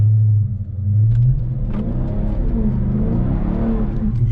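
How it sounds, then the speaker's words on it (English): A car with a newly installed Tazer tuner does a controlled burnout, the engine revving hard and droning with a loud, throaty low roar that holds steady over several seconds. "so we let you burn out a little bit, not too much, because these tires expensive"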